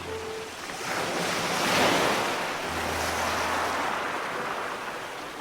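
Steady roar of ocean surf with waves swelling and receding, a broad washing rush with some wind noise, no voices.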